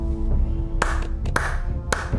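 Three sharp, sarcastic hand claps spaced apart, loud and close, over a steady background of game music or ambience with no talking.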